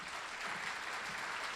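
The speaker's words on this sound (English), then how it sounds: "Let's give a round of applause for Mrs." Faint, steady applause from an audience at an alumni hall of fame ceremony, a brief even wash of clapping with no talk over it.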